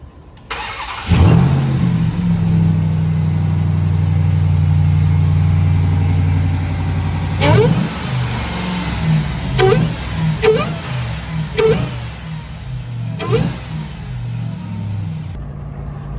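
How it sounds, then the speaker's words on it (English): A Ram TRX with a Hellcat supercharger and loud aftermarket intake starts up and idles with a steady, loud, close engine drone and supercharger whine, then a series of short revs blip over the idle. "gonna turn it on right now and see if the intake makes the whine a bit louder"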